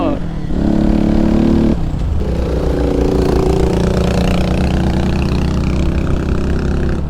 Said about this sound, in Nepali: एक्जस्ट नोट नि जस मिठो छ यसको